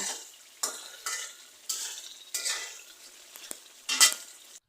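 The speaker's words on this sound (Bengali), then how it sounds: "দেখেন আমার মাংসটি কষানো হচ্ছে, কত সুন্দর কালার এসছে।" Duck meat is stir-fried in a pan, with repeated bursts of spatula scraping and stirring over a soft sizzle, close and fairly quiet, with no talking.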